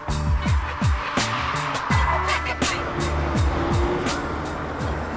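A Porsche Boxster driving hard, its engine note rising and falling through repeated gear changes with sweeping revs, close and loud over steady road and wind roar.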